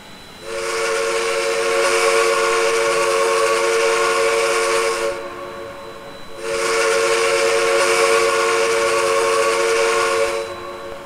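Two long, loud blasts of a Norfolk & Western 4-8-0 steam locomotive whistle in Trainz 2019, each a sustained multi-chime tone lasting about five seconds, separated by a brief pause over a steady ambient hiss.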